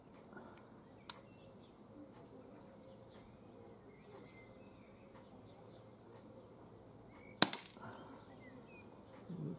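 An S&W M&P R8 CO2 BB revolver fires double action at targets 10 yards away: two sharp, faint pops several seconds apart over a quiet outdoor background.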